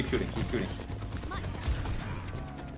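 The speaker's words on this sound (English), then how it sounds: "Keep shooting." Tracer's rapid gunfire in a video game, heard as a busy stream of short pops and impacts amid game effects, with a voice talking over the action.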